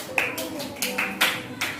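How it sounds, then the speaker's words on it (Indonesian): Students in a classroom give a few sparse, separate claps for their classmates, four or five distinct hand claps spaced out over a couple of seconds, with faint voices underneath. "tepuk tangan dulu buat kawan-kawan"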